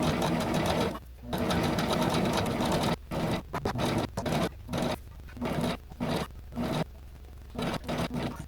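A sewing machine stitches a seam close to an original seam on a garment, running in loud, steady whirring bursts separated by short pauses as the fabric is repositioned, close up with no talk.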